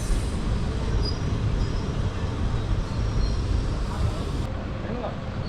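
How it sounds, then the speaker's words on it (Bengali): A passenger train rolls into Dubrajpur station, its heavy, steady rumble and rattling wagons filling the platform for several seconds, with faint squeals and background voices mixed in. "এই ঢুকছে আমাদের ট্রেন দুবলাজপুর"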